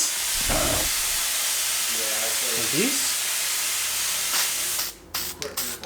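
Aerosol coating sprayed onto BTR LS9 head gaskets during a twin-turbo Fox Body engine build: a loud, steady hiss runs for nearly five seconds, then breaks into short bursts, with brief voices nearby.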